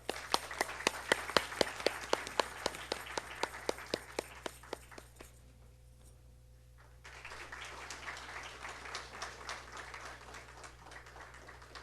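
Audience at a Bharatanatyam arangetram clapping to welcome a guru, starting with a few sharp distinct claps, fading to near quiet, then swelling into a fuller, steady round of applause.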